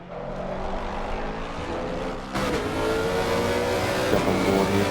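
GT3 race cars scream past on the Valencia circuit in a shakedown session, a loud sustained engine roar that steps up sharply partway through as a closer car passes, with the pitch shifting under acceleration.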